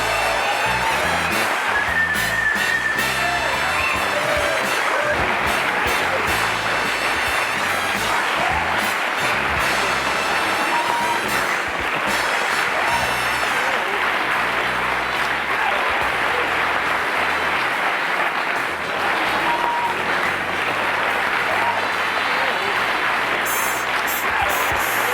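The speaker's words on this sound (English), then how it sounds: "I'm humbled by that applause." A television studio audience gives long, unbroken applause for actor Ed Begley Jr. on a 1984 late-night talk show, loud and dense throughout with occasional whoops rising above the clapping.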